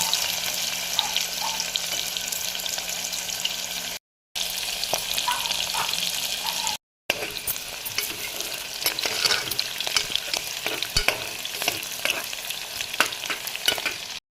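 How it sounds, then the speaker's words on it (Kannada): Chillies and onion frying in hot oil for masala rice, a close, steady sizzle with stirring scrapes and crackles, briefly broken by two short gaps. "ಎಣ್ಣೆ ಕಾದ್ಮೇಲೆ ಮೆಣಸು ಹಾಕ್ಕೊಂಡಿನಿ ನೋಡ್ರಿ ಒಂದು ನಾಲ್ಕು ಇವಾಗ ಉಳ್ಳಾಗಡ್ಡೆ ಹಾಕೊಳತ್ತೀವಿ"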